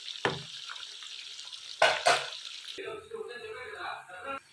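Boiled pieces frying in a pan, giving a soft sizzle with a couple of louder scraping stirs, and a voice speaking over the cooking near the end.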